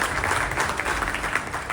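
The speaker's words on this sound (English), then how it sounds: "So let's have a big round of applause, everyone." A conference audience at an Infotech Forum event applauds, giving sustained, dense clapping that stays steady throughout.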